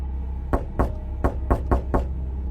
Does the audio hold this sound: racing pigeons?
no